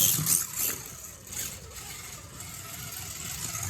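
A homebuilt slot car runs on a track, its small electric motor giving a steady mid-pitched whir that swells and dips as it laps, close and fairly loud, with no voices.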